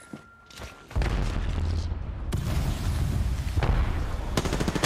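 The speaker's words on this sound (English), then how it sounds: "Incoming grenade!" A loud explosion and gunfire burst from an Apex Legends battle royale match, a dense roaring blast that sustains for several seconds with no voices over it.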